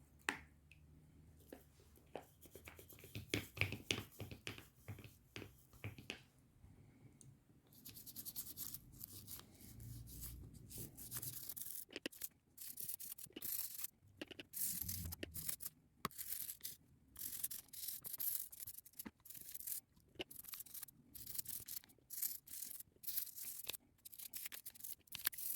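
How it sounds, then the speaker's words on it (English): A toothbrush with soap scrubbing a plastic My Little Pony G3 toy, quiet close-up bristly rubbing and wet squishing strokes in irregular bursts with short pauses between. "And then I grab my soap and toothbrush."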